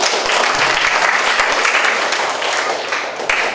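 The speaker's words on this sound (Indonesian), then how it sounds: "Tepuk tangan." A church congregation gives loud, sustained applause throughout, a dense wash of clapping with a few sharper individual claps.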